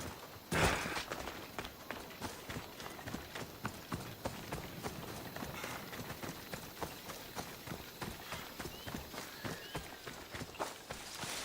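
Horse hooves clip-clop steadily in Assassin's Creed Odyssey, set in ancient Greece, a continuous run of fairly close, even footfalls at walking pace with a faint ambient bed and no talk.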